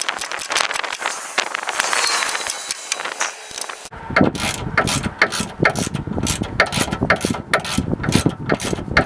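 Long brake caliper bolts being threaded back into a 2007 Dodge 1500 4WD, giving close, loud ratchet clicks and metallic mechanism rattles, first as denser clatter and then as sharp, repeated ratcheting strokes.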